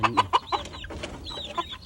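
Several free-range backyard hens cluck in quick, overlapping bursts, close by, with short squawky calls and no talking.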